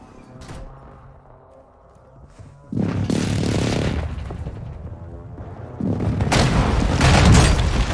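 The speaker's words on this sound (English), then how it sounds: "Airstrikes." Airstrike explosions in a shooter video game, heavy booming blasts rolling in back to back, loud and rumbling, following quieter game sounds and a brief spoken callout.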